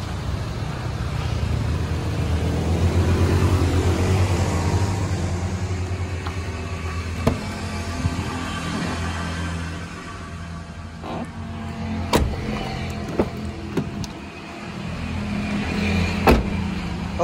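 A 2002 Suzuki Karimun, a boxy silver hatchback, idles with a steady low engine hum, close and fairly loud, with a few clicks and knocks over it; no one talks.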